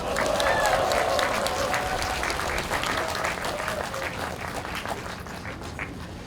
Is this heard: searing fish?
no